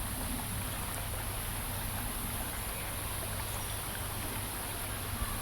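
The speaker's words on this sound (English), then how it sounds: "just slowly dump it out until it reaches that 5 ml or milliliter line" Water slowly poured out of a test tube down to the 5 ml mark, a steady soft trickle under a constant broadband hiss with no talking.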